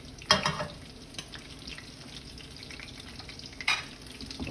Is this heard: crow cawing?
no